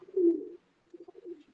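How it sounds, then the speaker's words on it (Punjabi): A large black-faced pigeon coos close by: one fuller, drawn-out coo followed by a softer, broken string of low murmurs, with no other sounds around it. "ਇਹ ਵੱਡਾ ਕਾਲੇ ਮੂੰਹ ਵਾਲਾ ਕਬੂਤਰ ਹੈ ਜੀ ਦੋਸਤੋ"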